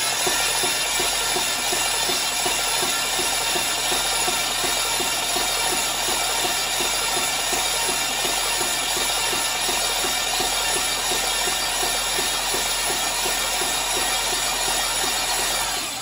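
Steady, continuous whirring drone of an LS V8 engine on a stand being spun over by its starter with the spark plugs removed, loud and close with no pauses.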